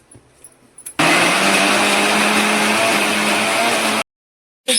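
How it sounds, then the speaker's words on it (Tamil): A mixer grinder grinds without water, roaring loudly and steadily for about three seconds, then cuts off abruptly before starting again briefly; quiet room noise precedes it. "இப்ப அரைக்க போறோம் மிக்சியில் தண்ணிலாம் ஊத்தாம அப்படியே அரைக்கணும்"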